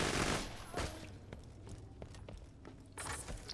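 Video game gunfire from Borderlands 2 fire bullets, rapid bursts of sharp shots cracking in uneven clusters, moderately loud and close, with sparse gaps between volleys.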